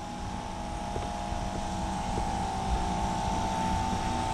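An O6D compressor runs on a freezer unit, a steady mechanical hum with a strong tonal drone and faint periodic ticks, constant and close throughout.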